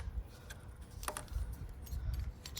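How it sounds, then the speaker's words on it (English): Small metallic clicks and light jingling as a hex key tightens a plug adapter on a Honda K20A2 engine, faint and close, in quick irregular bursts. "So we finished torquing this thing down with the hex key."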